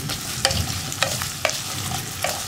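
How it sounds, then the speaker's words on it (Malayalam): Potatoes sautéing in vegetable oil with cinnamon and cloves over medium flame, giving a steady, moderate sizzle broken by four sharp spatula knocks against the pan. "ഉരുളക്കിഴങ്ങ് ഒന്ന് നന്നായിട്ട് വഴറ്റിയെടുക്കണം"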